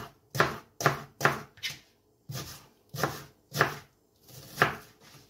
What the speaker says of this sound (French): L'oignon, on va le couper en deux.